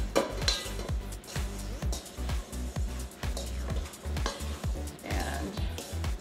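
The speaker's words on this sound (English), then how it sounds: "we're just going to mix it together so it's nice and combined" Gluten-free flour and sugar being stirred into damp blueberries in a bowl, giving a steady, close scraping and rustling with soft rhythmic knocks of the utensil, no talking.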